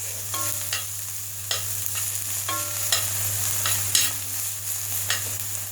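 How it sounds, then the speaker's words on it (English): Onions sizzle in sunflower oil in a pan while a spatula scrapes and stirs them in repeated short strokes, over a constant low hum. "We get a magic spatula and we're gonna mix those here in the pan to get them all nice and soft"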